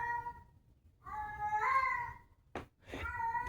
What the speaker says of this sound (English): Do you hear that? The cat is saying hello.